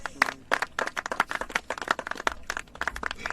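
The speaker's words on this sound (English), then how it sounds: "Golf clap." A handful of sparse, irregular hand claps form a quiet, unenthusiastic golf clap, close and soft, with no talking over them.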